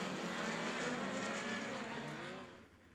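A midget race car idles down the back straightaway at a speedway, a steady droning engine note that holds fairly loud and then fades as it moves away.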